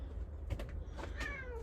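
A pet cat meows indoors, a few short cries close by with small household noises between them.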